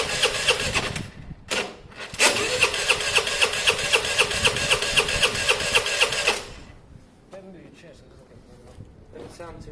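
A Vespa scooter engine running roughly, a loud rattling buzz with a rapid regular pulse that cuts out abruptly, followed by quieter clatter and handling noises.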